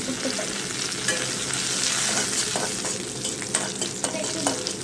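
Noodles stir-fried in a hot pan, a steady broadband sizzle with repeated scraping stirs and spatula clicks, close and continuous with no voices.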